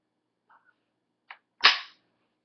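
Antique World War I/II rifle dry-fired, a faint click followed by a sharper mechanical snap and then a loud, bright metallic clack from the action, all close and isolated in a quiet room.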